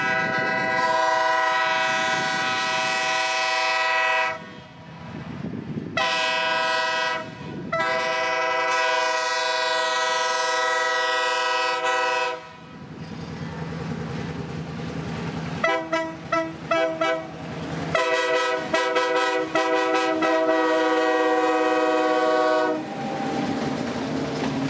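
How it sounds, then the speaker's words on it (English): Seaboard locomotive 8330 sounds its horn in a tune of Jingle Bells, loud, sustained chords broken into the song's rhythm with short staccato toots near the end, the train rolling and clacking underneath. "that's Jingle Bells coming out of 8330"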